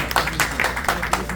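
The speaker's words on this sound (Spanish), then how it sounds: "Un aplauso al Señor por él, alabado sea Dios." Brief burst of rhythmic clapping from a church congregation in Jacksonville welcoming a visiting pastor from Miami; the claps are fairly close and steady, with voices mixed in.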